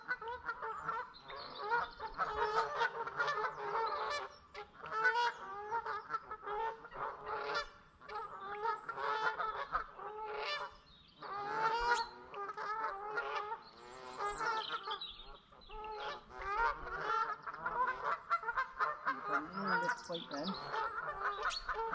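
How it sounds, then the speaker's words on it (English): Canada geese honk loudly and continuously, a dense overlapping chorus of calls filling the whole stretch, close by. "There's geese."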